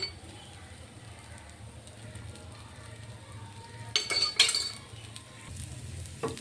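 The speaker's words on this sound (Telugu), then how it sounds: "దోశ కాలిందండి, రెండో వైపు టర్న్ చేసుకుందాము" A urad dal dosa sizzles faintly on a hot pan with oil, a low steady frying hiss, then a few close clinks and scrapes of a metal utensil against the pan.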